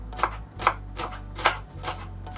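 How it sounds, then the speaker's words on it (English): A knife chops an onion into tiny pieces on a board, with about six distinct crisp cuts at an uneven pace, close up and alone over a low steady hum. "just chop it in tiny pieces"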